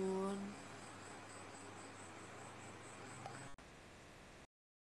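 Crickets chirp steadily through the background of a quiet indoor setting at night, a faint, continuous high trill that persists for several seconds before cutting out.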